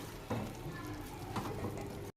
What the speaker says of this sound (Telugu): ఏవైతే మనం బీరకాయ పీసెస్ ఉంచుకున్నామో అవి అన్నీ వేసుకొని మిక్స్ చేసుకోవాలి